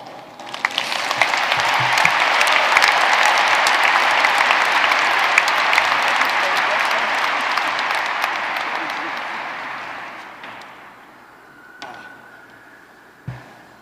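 Large commencement audience at St. George's University applauding in a dense, sustained roar of clapping that builds quickly, holds for about ten seconds, then fades out, followed by a couple of isolated sounds near the end.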